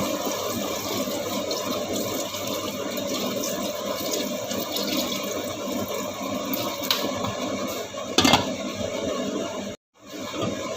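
Water poured into a mix of grooming ingredients, a steady splashing and trickling stream running for several seconds close up, with a brief louder splash near the end followed by a short cut to silence.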